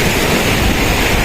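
Strong ocean waves surge and crash against the shore where clams are being gathered, a loud, dense roar of surf mixed with wind buffeting the microphone, with no voices.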